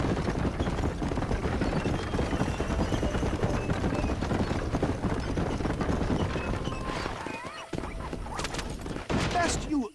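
A horse-drawn wagon travelling in the Western game Red Dead Redemption, kept below full speed: continuous rapid hoofbeats and rolling wheel rattle close by. The noise briefly thins out near the end, then a louder clatter arrives.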